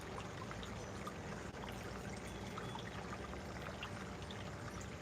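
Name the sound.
water recirculating from tub through hose into sluice header box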